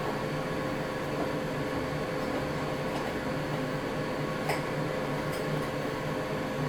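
A CKOZESE indoor grill and air fryer hums steadily while preheating, a constant close fan whir with a broad airy hiss and a few faint ticks, no one speaking.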